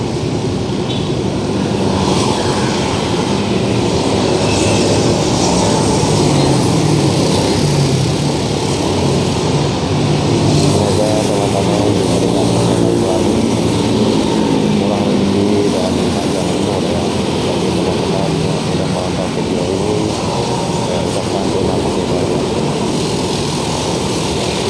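Transjakarta buses on a Hino chassis, running the Pulo Gadung–Harmoni route, pass by on a busy street. A loud, continuous engine drone swells and fades as they go by, with no clear speech over it.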